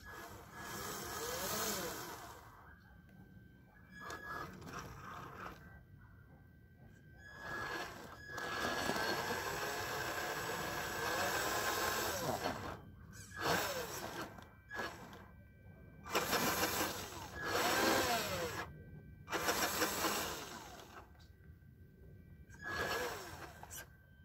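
A stock HengGuan HG P407 RC truck on its first run gives off whining motor bursts that rise and fall, with short pauses of near silence between stretches of driving.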